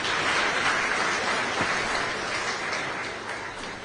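A congregation claps for children during a requiem mass at a Catholic shrine, a thick, even burst of applause that gradually fades over a few seconds.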